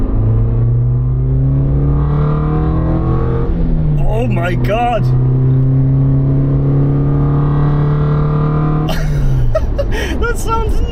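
A Suzuki Jimny fitted with a Forge Motorsport air intake revs hard in second gear. Its engine note climbs, dips and climbs again under loud, raspy induction noise, and a voice briefly exclaims over it.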